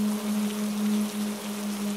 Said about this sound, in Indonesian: Cuma suara langkah sepatuku, suara gesekan jas hujan dan dahan pohon, sama suara gerimis yang menemaniku saat itu.